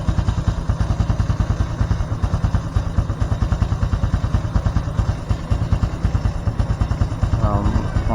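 A Honda Supra X 125 Fi motorcycle engine idles at raised RPM, its rapid, even putter close and loud and continuous throughout, with a brief voice near the end.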